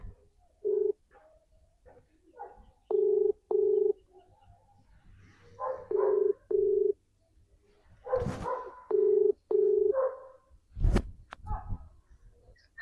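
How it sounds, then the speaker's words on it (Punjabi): A phone being dialed gives a series of short, evenly pitched electronic beeps in separate bursts, fairly quiet, with brief silences and a faint click or two between them. "ਕਵਲ ਨੂੰ ਲਾ ਕੇ ਵੇਖਾਂ ਫੋਨ"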